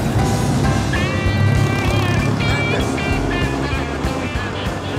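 Bentley 3-litre Blower car engine running loud and steady, a thick low rumble with rising whine of the supercharger, heard up close from on board while driving.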